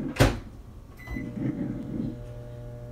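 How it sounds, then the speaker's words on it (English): A sharp clunk of a door or latch, then a beep and a low steady hum with a soft rattling drone, as a microwave oven starts heating coffee. "Y'all hear the microwave?"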